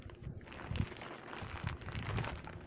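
Packaging crinkles and rustles as a mailed package is handled and opened, soft irregular crackles and crumples close by but faint, with no talking.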